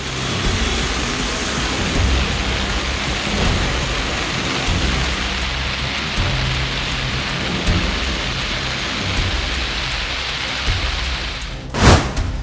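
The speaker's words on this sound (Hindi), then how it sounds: "बारिश मूसलाधार" Heavy, steady monsoon-style downpour in Uttar Pradesh, India, roaring without pause, with a sharp thunderclap bursting near the end.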